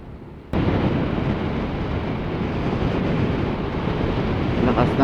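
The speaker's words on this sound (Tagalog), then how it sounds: "Lakas ng hangin guys," Loud, constant wind rush suddenly swells in and keeps roaring, steady and close, with no talking over it, while riding a Honda Beat V2 scooter on the road.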